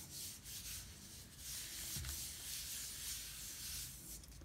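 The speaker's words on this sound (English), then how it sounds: "So then you just drop and float and rub it." Soft, steady rubbing of paper pressed onto a mono-print plate, a quiet continuous dry hiss with slight swells and no talk.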